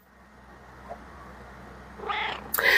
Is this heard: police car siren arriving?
no